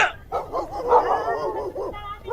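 A dog gives a run of short yips and whimpering barks, close and fairly loud, with a speaking voice overlapping the cries.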